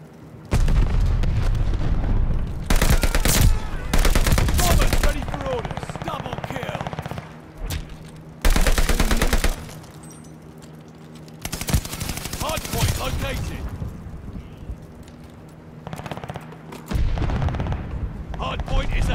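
Heavy machine-gun bursts and booming explosions in Call of Duty: Vanguard, a World War II shooter, in a Hardpoint match on PS5. Loud rattling volleys come in repeated bursts separated by brief lulls, with a voice speaking now and then.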